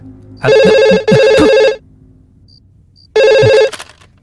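A telephone ringtone in a Malayalam-dubbed horror film scene rings loudly in two quick bursts, pauses, then sounds again, with a faint beep in the gap.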